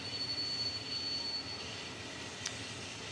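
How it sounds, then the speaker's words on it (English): A Frontier airliner jet taking off at Orlando International Airport gives a steady, distant roar that stays even throughout, with one faint click partway through. "Frontier now taking off"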